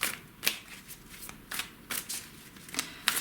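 Tarot cards being shuffled in repeated crisp riffling bursts, close and clear, with short pauses between each pass and no talking.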